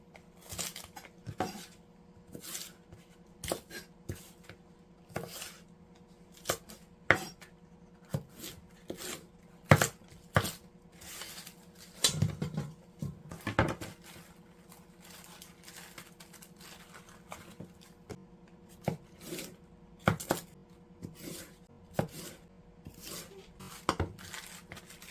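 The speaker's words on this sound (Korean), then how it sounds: "배추는 큼직큼직하게 썰어줍니다." A knife chops napa cabbage into large pieces on a cutting board, giving a steady run of crisp, close thuds with irregular spacing over a quiet kitchen background.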